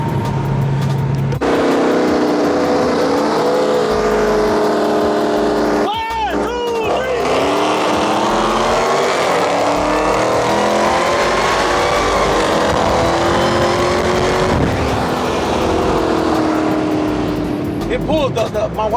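A new Dodge Hellcat Charger races hard, its engine roaring loud and close with a steady high-revving drone. A brief shift-like change sounds midway, and voices are faintly mixed in.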